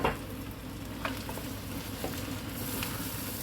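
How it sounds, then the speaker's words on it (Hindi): Quail frying in butter with black pepper, turmeric and garam masala in a karahi, a steady close sizzle with a few soft clinks of stirring. "हम इसको बार बार भून रहे हैं"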